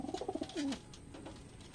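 A racing pigeon coos softly while being held, giving a few quick low throaty pulses followed by one longer rolling coo, close and faint, with no talking.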